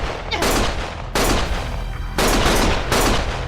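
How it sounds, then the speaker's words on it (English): Heavy gunfire from the Lost Judgment video game, three loud sustained bursts of rapid shots with brief gaps between them, close and dominant. "Stop shooting!"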